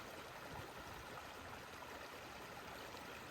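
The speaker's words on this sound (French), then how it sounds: "La rivière est restée la même" River flowing in a quiet outdoor spot, a soft, steady rush of water that holds even and unbroken throughout with no other sounds.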